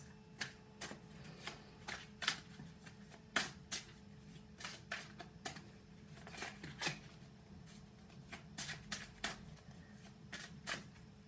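Tarot cards being shuffled close up, a steady run of soft, crisp card flicks and riffles with irregular rhythm, faint and quiet with no talking.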